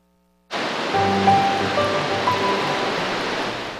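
A waterfall near Cayuga Lake, fed by melted snow, rushes as a dense, steady roar that starts abruptly and holds loud and constant, with no voices over it.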